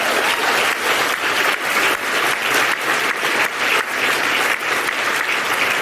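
Loud, sustained applause from a large audience at an awards event honoring women in music, dense clapping with rhythmic swells filling the whole stretch, no voices over it.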